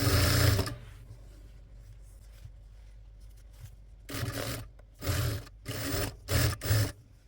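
A sewing machine stitches the folded waistband of a child's umbrella skirt in several short, close bursts of rapid whirring, with a louder thump at the start and quiet gaps between runs.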